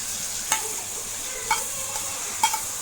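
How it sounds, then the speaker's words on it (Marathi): Finely chopped garlic fries softly in oil with cumin seeds for a rustic garlic chutney, a gentle hiss broken by three distinct stirring scrapes about a second apart. "आता हे तेलात पूर्णपणे भाजून घ्यायचं."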